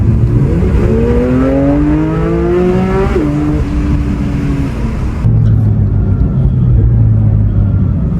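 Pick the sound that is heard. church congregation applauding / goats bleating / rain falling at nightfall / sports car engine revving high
sports car engine revving high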